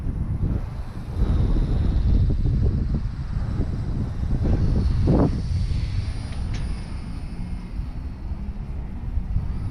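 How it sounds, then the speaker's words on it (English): Strong wind buffeting the microphone, a continuous low roar with gusty surges and no voices. "It's way too windy."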